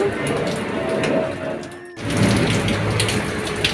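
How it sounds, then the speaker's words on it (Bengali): Heavy rain falls steadily on a city lane, a dense, even hiss that dips briefly and then returns just as strong, with no voices. "দেখো কত বৃষ্টি হচ্ছে, সারা রাত বৃষ্টি হয়েছে, সারা রাত।"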